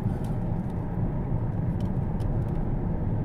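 Opel Insignia car driving along a coastal road, a steady low engine and road rumble heard from inside the cabin, continuous and even, with faint high ticks and no talking.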